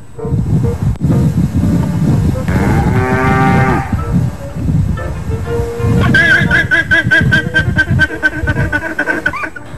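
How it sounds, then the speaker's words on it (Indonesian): A water buffalo calls loudly and close by, with long low bellowing moos, wind buffeting the microphone in between. "Uniknya hal ini terjadi berkali-kali setiap kerbau mengeluarkan suara."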